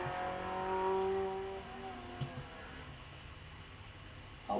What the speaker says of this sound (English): a C2 Citroen leaves the line